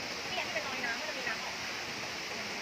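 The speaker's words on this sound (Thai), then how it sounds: "อ๋อก็คือน้ำไหล" Water at Huai Yang waterfall, in a national park between rocky cliffs, makes a steady broadband rush with faint voices in the background.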